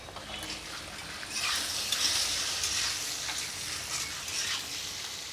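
Bottle gourd peel sizzles in a pan with ginger, tomato, garlic, onion and green chilli, a continuous close frying hiss swelling as the mix is stirred, with soft scraping strokes throughout.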